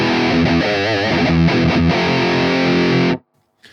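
Electric guitar played through an Audified Multidrive Pedal Pro distortion with a notched mid, trimmed treble and added bass: thick, saturated sustained chords and bends ringing loud for about three seconds before cutting off abruptly into silence.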